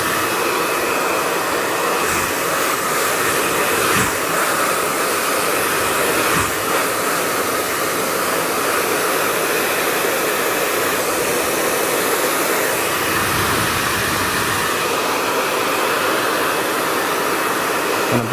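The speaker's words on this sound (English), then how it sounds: "the power of the dryer is just pushing the hair onto the brush" A hair dryer blows steadily and loudly while a bob is styled with a round brush, a continuous close airy roar with small shifts in tone as the brush and airflow move through the hair.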